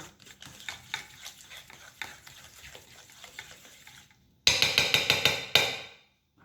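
Softened butter for banana bread being stirred in a bowl, a run of quiet rhythmic scraping and tapping strokes, followed by a louder burst of clattering strokes near the end.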